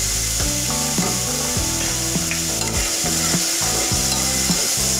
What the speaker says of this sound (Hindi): अब इसमें लहसुन डाल दें।